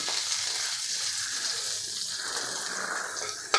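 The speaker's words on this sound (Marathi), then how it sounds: "आता हे आपल्याला परतवून घ्यायचं आहे एक दोन ते तीन मिनटे फक्त आपल्याला परतवून घ्यायचं आहे" Chopped vegetables with half a green chilli sautéing in a pan for a sweet corn paneer paratha filling, a constant close, loud hiss and sizzle with a faint stir near the end, no talk.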